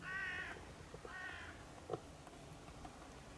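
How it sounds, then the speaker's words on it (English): A crow caws twice in quick succession at night in Tiel, Netherlands, fairly distant, followed by a faint click and low background hiss. "I'm not sure why the crows are active."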